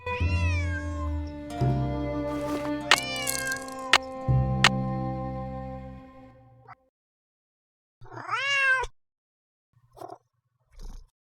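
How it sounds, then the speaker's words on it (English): A cat in the Nancy Drew game Secret of the Old Clock meows repeatedly, a long drawn-out call over music, then a few shorter meows after a pause. "Otherwise, he'll just keep meowing."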